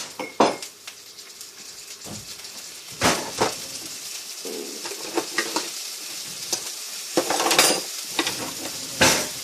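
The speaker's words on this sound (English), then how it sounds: "Hear that sizzle?" Onions and bell peppers fry in a pan with a steady sizzle, broken by the clatter of a utensil scraping and stirring against the pan, close and clear with no voices.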